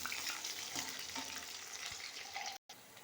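Taro stems frying in a pan with oil, a steady soft sizzle and crackle with light stirring, fairly quiet and close, no talking.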